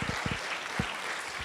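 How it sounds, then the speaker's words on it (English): An audience claps for Sammy and Vaz in brief, steady applause at a business leadership talk, with a few low thuds from voices or movement mixed in. "Give Sammy and Vaz a big round of applause,"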